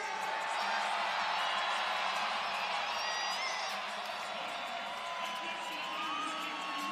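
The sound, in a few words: crowd cheering for wrestler Ben Kerr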